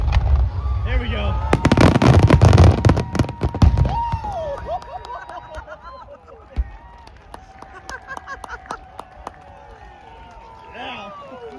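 Fireworks at an outdoor air show burst loud and close in a dense volley of cracks and booms, then thin out to scattered pops and crackles while a crowd cheers and people talk.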